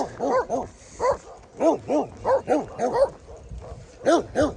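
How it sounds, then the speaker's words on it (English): Several dogs met on the Sheltowee Trace hiking trail give a run of repeated barks and yips, close by and fairly loud, in quick uneven bursts. "Oh, there's another Barco. Doggos. What up, doggos?"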